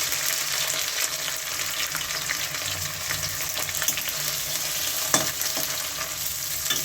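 Onion and garlic frying in oil with bay leaf and dried chili for ghugni, a steady close crackling sizzle with occasional stirring scrapes, no talk.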